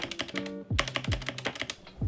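Stock Redragon Deimos K599 TKL mechanical keyboard typed on at close range, a steady run of crisp keystrokes with a few deeper thocks mixed in, no voices.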